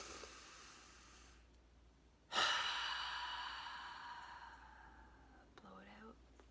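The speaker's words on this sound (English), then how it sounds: "Take a deep breath in." A single long, deep inhaled breath drawn close to the microphone, beginning sharply and fading slowly, followed by a short murmured voice.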